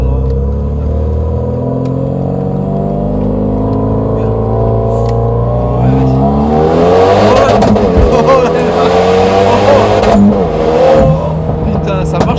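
A Renault Mégane 3 RS Performance accelerates hard through several rising gear pulls, with a loud, close engine roar and rumble, shift breaks and a brief pop, while voices talk over it.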